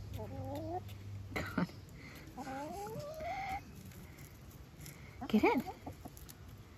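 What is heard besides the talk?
backyard chickens clucking while eating fresh pumpkin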